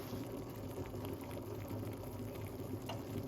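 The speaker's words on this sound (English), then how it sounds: "Because the water is boiling." A steady bubbling and rolling of water boiling in a pot, continuous and fairly loud, with no voices.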